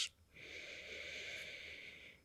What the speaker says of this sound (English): Keep up with that Ujjayi breath.